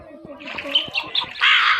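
A cartoon crow caws in the Meena mobile game, giving a few short, bright calls close up amid other game sounds.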